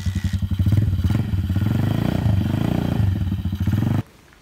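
Motoworks Big Foot 150cc oil-cooled motorbike engine running close by, a loud, steady, pulsing thump that rises slightly, holds for about four seconds, then cuts off abruptly.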